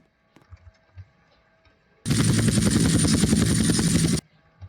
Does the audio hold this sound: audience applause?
no